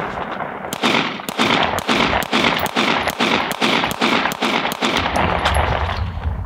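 Fast string of sharp gunshots from a timed shooting run on a range, roughly a dozen loud evenly spaced cracks, alone and close.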